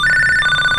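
Ringtone from a Panasonic PA intercom telephone set, a bright electronic trill that pulses rapidly and repeats close and clear for under a second, with no voices.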